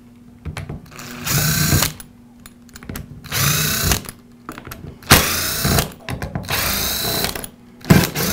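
A Milwaukee cordless drill's housing screws are backed out with a power driver in four separate whirring bursts of roughly a second each, the high-pitched motor spinning up loudly and close, with quiet pauses and small clicks between them.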